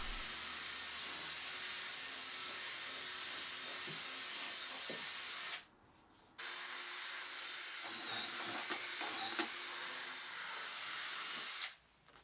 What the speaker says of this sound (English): got the drill and buffed it all up